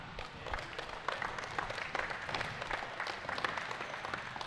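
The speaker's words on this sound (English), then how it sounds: "So I think they deserve a bit of a round of applause by everyone" Applause for the organisers of a Sydney indoor hockey men's premier league final, a steady, fairly faint patter of clapping from a crowd in an indoor venue, lasting throughout without a break.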